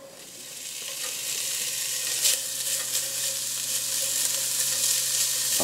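Bacon, 250 grams, sizzles steadily in a cast-iron Dutch oven, a continuous broad frying hiss that grows slightly louder and stays close throughout with no voices.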